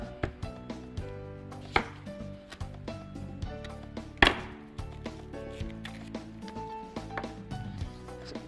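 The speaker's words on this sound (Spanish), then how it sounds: "Cebolla morada la vamos a filetear" A knife cuts half a red onion into thin slices on a wooden board, in a steady, close, rhythmic run of crisp taps and thuds with one sharper knock midway.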